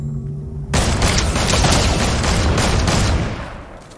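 Loud, sustained Fortnite gunfire erupts after a short quiet lead-in, a dense rattling barrage of rapid shots that holds for about three seconds before tapering off.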